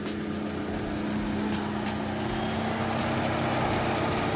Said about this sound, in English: I do hear a little bit, some engine noise